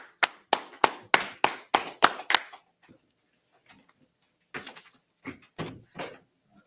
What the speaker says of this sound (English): Let's clap it up one more time for that heavy class.